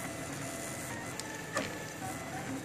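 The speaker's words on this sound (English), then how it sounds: "it seems to be doing a pretty good job with this print" A RepRap Prusa 2 3D printer works on a Pink Panther Woman figurine, its motors whirring steadily with a few small clicks and shifts in tone, close by and without speech.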